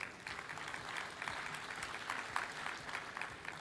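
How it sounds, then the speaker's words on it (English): Steady applause from a conference audience at an engineering summit, a dense continuous patter of clapping heard at a moderate distance. "So once again, round of applause for Rosemary, Kimwatu"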